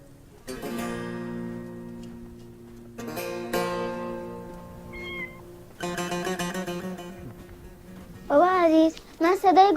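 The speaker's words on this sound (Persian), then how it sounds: "صدای گربه شنیدم." A cat meows several times, faint and drawn-out at first, then closer and louder with wavering, pleading cries toward the end, while a voice speaks softly between them.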